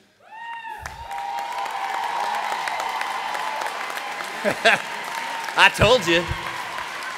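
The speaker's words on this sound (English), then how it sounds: "Big round of applause." Graduates and guests at a culinary institute graduation ceremony applaud for military service members, a long, steady wash of clapping in a large hall with scattered cheers, while a voice speaks briefly at the start and again near the end.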